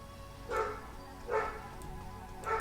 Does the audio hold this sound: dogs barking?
yes